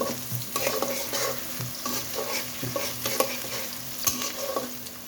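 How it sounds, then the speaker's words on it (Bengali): Chopped onion fries in oil while being stirred, a steady sizzle broken by frequent scraping strokes of a utensil against the pan, close and fairly loud. "পেঁয়াজ কুচি করে দিয়ে দিয়েছি এটাকে একটু কালার আনতে হবে"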